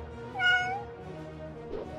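A domestic cat gives a single clear, drawn-out meow near the start, fairly close and distinct, followed by a softer short vocal sound near the end over quiet background.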